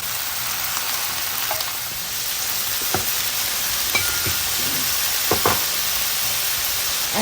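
Fresh callaloo frying in a pan for a Jamaican breakfast, giving a loud continuous sizzle with a few soft clicks of stirring throughout.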